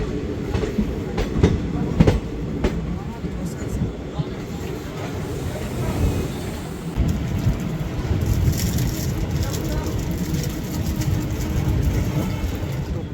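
The Varanasi Mahamana Express rolls into the small Nihalgarh station in Uttar Pradesh, a loud continuous rumble with clattering wheels and rattling carriages throughout, no voices heard.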